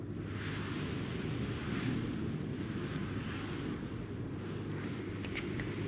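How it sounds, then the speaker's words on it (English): A storm arrives on Titan in the game Stationeers, a constant dense rush of wind and low rumbling that holds steady throughout without any voices. "Oh, here comes a storm."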